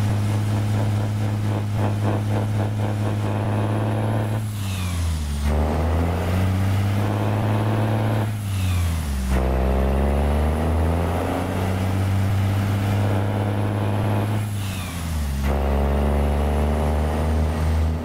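A Peterbilt 389 truck with an 835 hp Cummins ISM engine drones steadily from the cab while driving, its deep engine tone rising and falling through repeated gear changes, loud and continuous.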